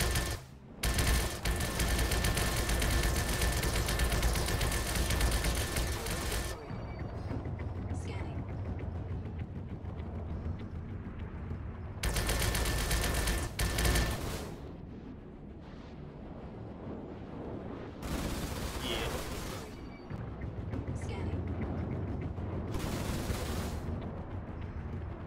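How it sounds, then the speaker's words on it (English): Blue laser shots fired in a video game ring out as loud, dense bursts of rapid fire, coming in several long volleys separated by brief lulls filled with other game noise. "Shoots blue lasers, don't shoot it."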